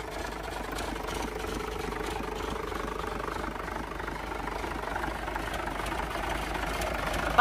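DHI engine idling smoothly, a steady, even low rumble that holds at a constant level for the whole stretch without any speech over it.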